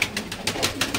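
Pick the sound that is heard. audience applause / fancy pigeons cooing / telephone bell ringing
fancy pigeons cooing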